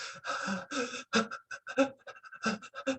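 A voice imitates frightened, shaky hyperventilating breathing in a rapid run of short, uneven gasping pants, close and fairly quiet.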